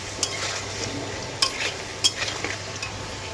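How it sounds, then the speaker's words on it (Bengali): Fried potatoes are scooped out of hot oil in a pan, with a steady sizzle broken by a few sharp metallic clinks and scraping stirs of a utensil against the pan. "চলো আলুটা ভাজা হয়ে গেছে, আমি আলুটা তুলে নিই"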